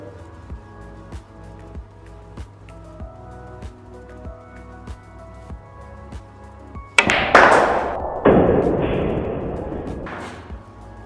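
A cue strikes the cue ball a tip below center on a billiard table with a sharp close crack, and a second hard knock follows about a second later as the balls meet. Steady soft background music plays throughout.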